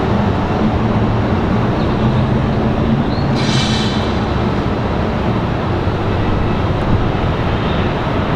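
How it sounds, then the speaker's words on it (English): A CRJ regional jet touches down at Raleigh-Durham airport, a loud, broad, continuous engine roar with a brief brighter rush midway as it lands. "Wobbly touchdown there for the CRJ."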